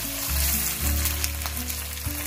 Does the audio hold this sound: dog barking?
no